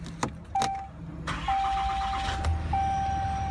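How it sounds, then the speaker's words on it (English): A 2015 Ram 3500 Heavy Duty 4x4 pickup cranks briefly and fires up, settling into a steady, close idle with a high chime tone sounding over it from inside the cab. "The vehicle is started up"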